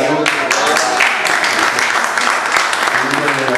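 Audience at a book event on La Huasteca Tamaulipeca breaks into loud, close applause, sustained clapping that runs the whole span with voices talking over it.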